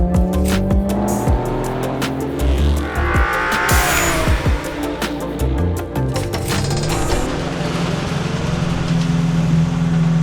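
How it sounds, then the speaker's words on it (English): A Ferrari 355 fitted with Tubi manifolds, Larini cats and a Capristo back box revs loudly and steadily, its engine note rising and falling with sharp squeals and crackles over continuous rumble, close and unbroken throughout. "I wanted to add Tubi manifolds, Larini cats, and a Capristo back box. Now I've been told this car sounds the absolute nuts."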